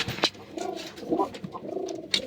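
Several soft, throaty coos from pigeons nearby, repeated low warbling calls in quick succession with a few faint rustles between them.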